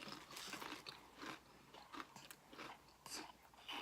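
Barbecue-flavoured snack chips being bitten and chewed close up, giving quiet, irregular crunches and crackles over a few seconds with no talking.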